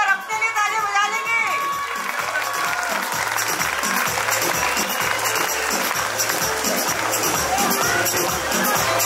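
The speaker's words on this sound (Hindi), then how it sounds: "एक बार अपने लिए ताली बजा लेंगे" Audience at an open-air theatre comedy show clapping loudly and steadily, with cheering and scattered shouts mixed into the sustained applause, close and dense throughout.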